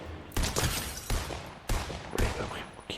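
Rapid bursts of gunfire in the Fortnite video game, several loud volleys in quick succession with brief gaps, close and dominant throughout.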